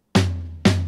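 Two sharp snare drum hits about half a second apart, each bright crack decaying quickly, played as part of a 6+6+4 clave accent pattern for punk rock drumming.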